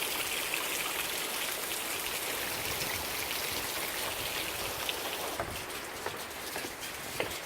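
Heavy rain pours down steadily in a dense, continuous hiss of drops pattering on surfaces, with a few louder close splashes near the end and no voices.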